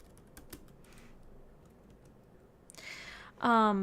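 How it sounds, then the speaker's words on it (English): Computer keyboard keys are tapped and clicked in scattered bursts, close and fairly soft. A brief louder voiced sound follows near the end. "I'm clicking buttons."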